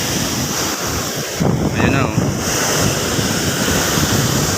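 Strong sea waves roar and wash continuously nearby during a typhoon, mixed with wind noise, as a voice briefly speaks over the surf.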